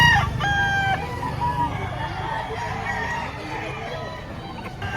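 Chickens crow and cluck at a poultry market behind SM Lipa in Batangas, with a rooster's call rising over a busy, continuous flock din nearby.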